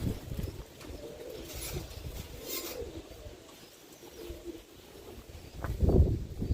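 Roller pigeons coo in soft, low, throaty bursts at close range, with a louder, fuller coo near the end over a rustling background.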